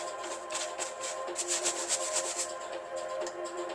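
A rag rubs back and forth over paint-washed wood, producing a close, steady series of soft swishing strokes in an even rhythm.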